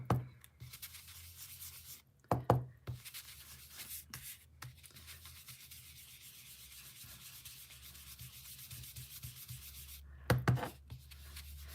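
Ink is rubbed onto cardstock in short scrubbing strokes, soft and close, with several louder bursts of rubbing between quieter pauses and no talking.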